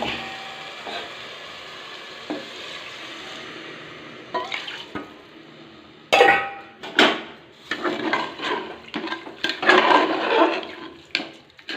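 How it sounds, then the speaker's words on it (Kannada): Water poured from a measure into a pot of soaked rice for biryani, a steady splashing pour that turns louder and more turbulent in bursts midway, close and with no talk. "ಅದು ಅಳತೆ ಮೆಜರ್ಮೆಂಟ್ ಇಟ್ಕೊಂಡಿರೋಷ್ಟು ನೀರು ಹಾಕ್ತಾಯಿದ್ದೀನಿ."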